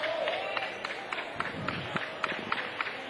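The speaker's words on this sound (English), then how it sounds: "everybody in the multiple people in the stands, those for Norcross and for Bishop O'Connell, are clapping for Romello Trimble's return to the game" A basketball crowd in the stands claps for a returning player at a high school game between Norcross and Bishop O'Connell, a steady patter of scattered applause with a few sharper claps over a low murmur.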